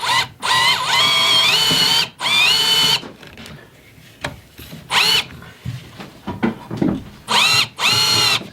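A power drill drives screws into a Harbor Freight wall-mounted parts rack, with several loud, close whirring bursts of a second or two each separated by short pauses and quieter handling noises.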